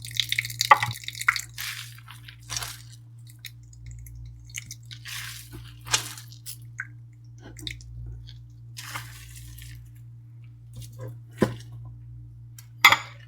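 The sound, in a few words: water dripping from squeezed grated potatoes and onions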